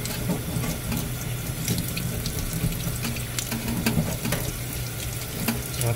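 Cold tap water runs steadily over a bluegill as it is cleaned and scrubbed, a constant splashing stream broken by light scraping and clicking.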